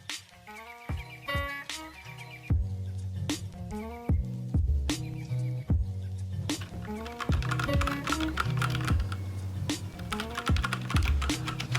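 Typing on a Velocifire TKL02WS wireless tenkeyless keyboard fitted with O-ring dampeners, close and steady, with rapid clustered keystrokes and occasional sharper taps running throughout, no talking.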